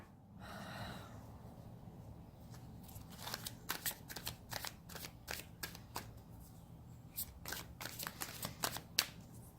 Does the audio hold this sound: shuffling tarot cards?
yes